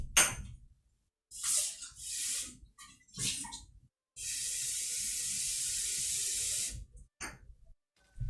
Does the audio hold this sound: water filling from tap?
yes